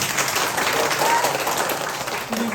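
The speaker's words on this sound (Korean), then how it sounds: "박수 한번" A church congregation breaks into applause during a Sunday service, a moderate, even wash of clapping across the hall with some voices mixed underneath.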